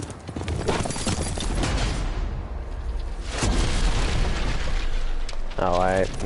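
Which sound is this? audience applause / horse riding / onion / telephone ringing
horse riding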